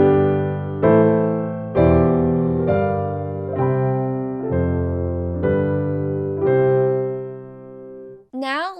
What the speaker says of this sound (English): we have to play the 5th to add a 7th augmented chord